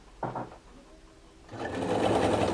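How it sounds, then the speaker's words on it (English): A vintage American Home zig zag sewing machine at its longest stitch length starts up and stitches steadily through nylon, a close, continuous mechanical whir after a brief knock and pause. "And then we'll go to the longest stitch length, and then we'll sew a little bit on this nylon."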